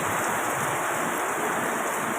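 A steady downpour in Silang pours down as a thick, unbroken wash of hissing noise, constant in loudness for the whole brief moment.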